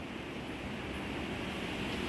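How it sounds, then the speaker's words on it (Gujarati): Heavy monsoon storm rain pouring steadily outside a flooded home, a dense, even hiss that holds at the same level throughout with no voices. "અને હજી પણ વરસાદ ચાલુ જ છે, ભયંકર વરસાદ હજી ચાલુ જ છે."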